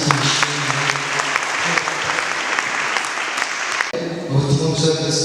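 A church congregation applauds, a dense, loud wash of clapping that carries on steadily, with voices mixed in underneath before it gives way to talking near the end.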